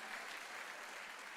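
Church congregation clapping in a steady, dense burst of applause, soft and distant, with no voices over it.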